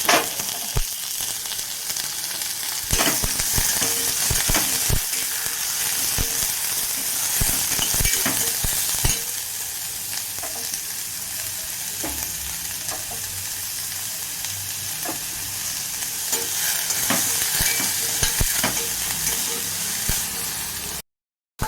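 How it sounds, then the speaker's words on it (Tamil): Finely chopped large onion fries and sizzles steadily in a pan, with frequent scrapes and clicks of stirring throughout, loud and close with no talking. "அதை போட்டு நல்லா இலக்கணும்."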